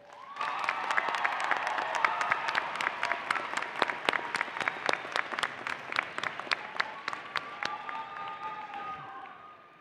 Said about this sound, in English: Please take a moment to thank them with a round of applause.